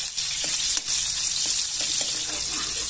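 Garlic and onion fry loudly in hot oil, giving a dense, continuous crackling sizzle with faint stirring knocks underneath, heard close up.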